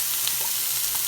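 Chopped onion hitting hot oil in a pan for a spicy Sri Lankan-style black chickpea sundal, a continuous close hiss and sizzle with faint stirring, no voices.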